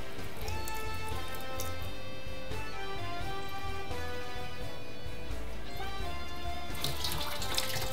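Tap water runs steadily into a Zigmund & Shtain kitchen sink, a continuous splashing rinse that lasts throughout with no one talking.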